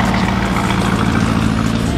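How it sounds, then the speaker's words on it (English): A Lamborghini Urus rumbles deeply through its exhaust after a cold start at an outdoor cars and coffee meet, a steady, loud, low idle drone with no talking. "Started up heavy. Nice rumble on that exhaust there."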